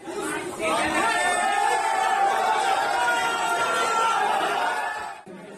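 Dense crowd of spectators at an open-air fight event in Bhiwandi, a loud steady hubbub of overlapping voices and chatter with occasional shouts, sustained close up throughout before briefly dipping at the end.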